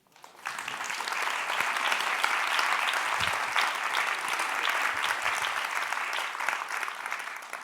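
An audience breaks into sustained, loud applause to welcome Thierry Despont, a dense wash of clapping that rises quickly and holds steady for several seconds.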